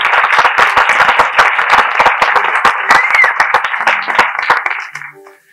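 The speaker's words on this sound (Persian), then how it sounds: "تشویقشون بفرمایید." An audience at a talk on Neanderthals in Iran breaks into steady, dense applause, with sharp claps over a crowd wash, fading out at the end.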